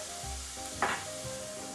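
Garlic sizzles steadily in a hot pan, with a brief louder burst of stirring near the middle, the frying hiss continuing low and close throughout without any talk.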